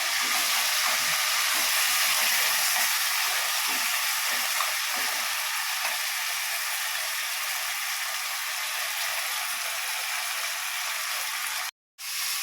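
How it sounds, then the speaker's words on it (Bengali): Taro leaves stirring in hot oil in a pan, a steady loud sizzle and hiss running throughout with faint scraping under it, briefly cutting out near the end. "কচু শাকটা দেখছেন একটু তেলে নাড়াচাড়া করে একটু লালচে লালচে হবে"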